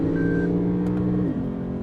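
Lexus RC F engine running on a track with its automatic gearbox, a steady loud rumble that drops in pitch partway through as a fast gear shift comes in, continuous and close.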